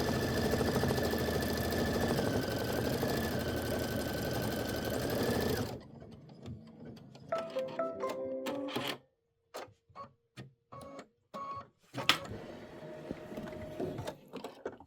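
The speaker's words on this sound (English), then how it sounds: "this is the satin stitch border for the accent fabric" A sewing machine runs steadily, stitching a satin stitch border in green thread on accent fabric, a dense continuous whir for several seconds before stopping, followed by scattered short clicks and handling noises.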